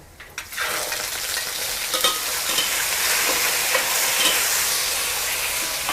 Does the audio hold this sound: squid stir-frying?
yes